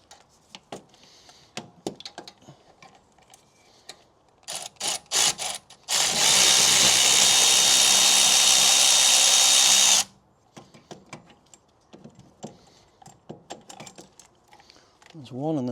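Bolts on a BMW rear brake caliper are undone with tools: scattered clicks and taps, then a loud continuous power-tool whir lasting about four seconds before more light clattering.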